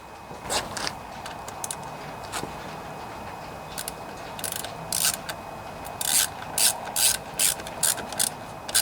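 A ratchet with an 8mm socket tightening carburetor bolts on a Honda EU2000i generator, giving close clicking bursts that start sparse and grow into quicker back-and-forth runs of ratcheting.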